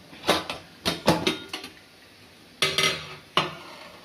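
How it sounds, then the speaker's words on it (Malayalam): A cooled pressure cooker is opened while making a Kuttanad-style clam roast: a series of sharp metallic clanks and knocks of the lid and pot, in bursts with short pauses between. "കുക്കർ തണുത്ത് വന്നിട്ടുണ്ട് ഞാൻ തുറക്കുവാണ് ഇത്"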